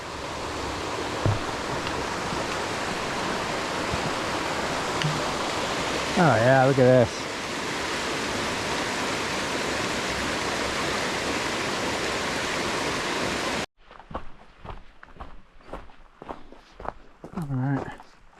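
A river rushes steadily in the background beside a White Mountains hiking trail in New Hampshire as someone talks briefly, then the sound cuts to quieter footsteps and movement.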